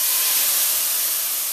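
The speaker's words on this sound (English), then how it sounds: "You are going to notice it's going to steam up." Water hits a hot pot while cooking curry and steams up in a loud, steady hiss that fades slightly over a second or two.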